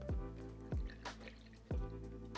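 A cocktail mixture drips through a coffee filter set in a fine strainer, with three distinct, evenly spaced drops falling close by into liquid over a faint background hum.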